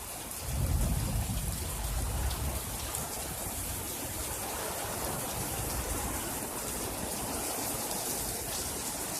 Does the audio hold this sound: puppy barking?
no